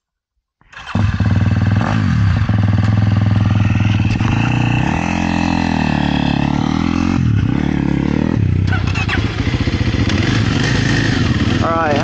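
A Kawasaki KLX300R dirt bike starts up and rides off, its single-cylinder engine loud and close, revving and shifting through gears with rising and falling pitch while the bike clatters along for the whole stretch.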